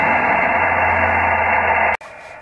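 An SSTV slow-scan television picture transmission over radio gives a steady, noisy tonal hiss that breaks off abruptly near the end.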